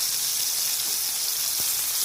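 Carrots frying in oil while cooking a soybean panchamasali vegetable dish, a steady bright sizzling hiss with no pauses, close and moderately loud.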